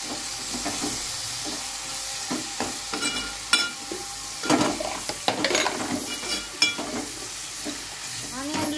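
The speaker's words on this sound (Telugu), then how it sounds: "నెక్స్ట్ పుదీనా, కొత్తిమీర ఆనియన్లోనే వేయించేస్తున్నాను" Chopped onion sizzles in a pan with fresh mint and coriander, a soft continuous frying crackle punctuated by repeated scrapes and clinks of a spoon stirring against the pan.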